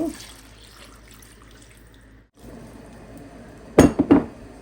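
Quiet kitchen background, then three mugs of water splash loudly into a metal pot of cooking meat in a few quick bursts near the end.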